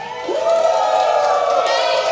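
A crowd shouts and cheers together at a lively event, a sustained close roar of many voices with a rising whoop at the start, loud and continuous.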